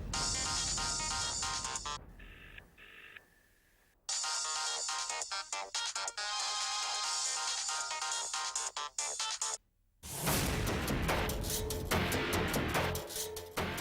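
A phone ringtone plays unanswered, loud and repetitive with brief pauses between rings, heard alone in an indoor scene of a Tamil TV serial.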